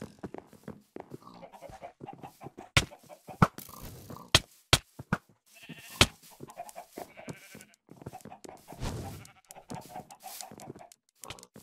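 Chickens in Minecraft clucking in short, scattered bursts with a few sharp clicks mixed in, fairly faint and uneven, with no talk.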